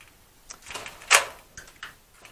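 The front door of a new house in Melbourne is unlocked and opened, with a few clicks and rattles of the latch and a sharp metallic snap midway, close by and without talking.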